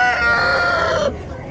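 A rooster crows once at a large small-animal market fair, a loud, harmonic call held about a second before cutting off into the crowd's background murmur.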